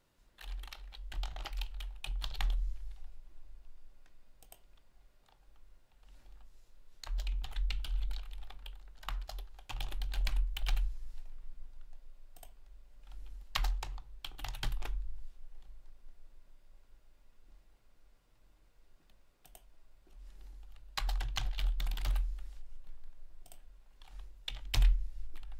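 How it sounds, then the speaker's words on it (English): Typing on a computer keyboard while entering text-based SCL instructions for a PLC program in TIA Portal, heard in several bursts of quick, close clicking with short pauses between them and no talking. "In SCL, programming is text-based. That means you have to type in the instructions."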